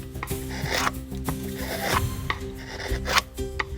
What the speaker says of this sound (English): Faint sounds of woodworking kept coming from that room.